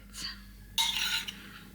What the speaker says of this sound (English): teacher at baking class is always scrape the bowl, get the last bit